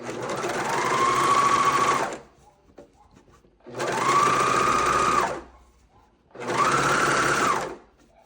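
A coverstitch sewing machine stitching a knit band runs in three steady, whirring bursts of about two seconds each, close and loud, separated by brief pauses with faint handling noise.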